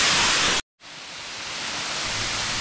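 Waterfall near Trimbakeshwar, Nashik, roaring as a loud, steady broadband rush of falling water, cut off briefly by a short silent gap before resuming at full strength.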